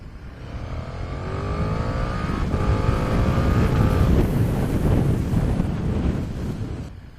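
A 2020 KTM Super Duke R motorcycle ridden at speed, its engine note rising through the revs beneath heavy roaring wind buffeting the microphone, loud and continuous.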